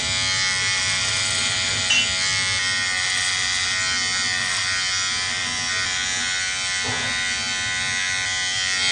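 A cheap Amazon electric beard trimmer runs with a steady, close, continuous buzz for the whole stretch, slightly shifting in tone as it is moved under the face.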